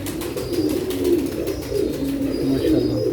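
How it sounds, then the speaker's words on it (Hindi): Paired pigeons cooing steadily in low, overlapping murmurs, close and continuous through the whole stretch, with faint higher chirps above. "ये जोड़ों वाले कबूतर है"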